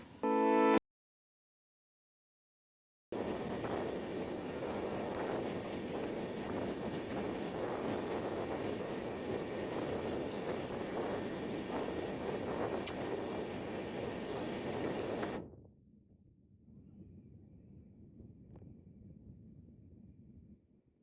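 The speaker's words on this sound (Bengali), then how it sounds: "আমাদের ট্রেন কিন্তু এই মুহূর্তে পৌঁছে গেছে ফরিদপুর জেলার ভাঙা রেলওয়ে জংশনে" Onboard the Madhumati Express running from Dhaka toward Rajshahi, a steady broadband rumble of the moving train holds for about twelve seconds and then drops abruptly to a quieter hum, with a brief burst and a silent gap at the start.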